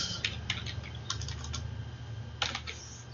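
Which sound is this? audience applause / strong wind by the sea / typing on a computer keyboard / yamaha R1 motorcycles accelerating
typing on a computer keyboard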